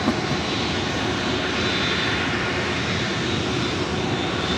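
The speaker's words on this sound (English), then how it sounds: "Delta Airlines Flight 465 heading to Honolulu, an A321neo." A Delta Airlines Airbus A321neo jet takes off at LAX, its engines producing a loud, steady, broadband roar that holds constant throughout with no voices.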